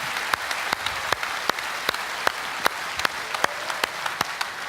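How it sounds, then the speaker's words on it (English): Audience at a men's conference applauding as a guest walks on stage, giving a steady wash of clapping punctuated by sharp, regular, louder claps from one nearby person. "I just want you to give a big round of applause to Captain America"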